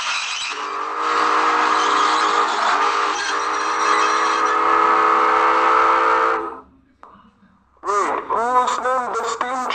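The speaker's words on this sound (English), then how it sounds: "Is a red steam train." A red steam train sounds a long, loud whistle with a sustained tonal blast that lasts several seconds and then cuts out, followed by a short gap and then a few seconds of voices.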